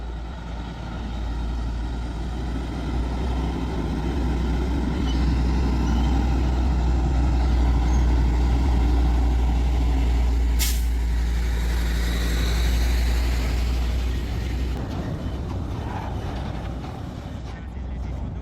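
Heavy haulage truck with a 100-ton load on a very long trailer maneuvering: a deep, steady diesel rumble swelling and easing, with a brief hiss partway through, under a continuous road-scene background.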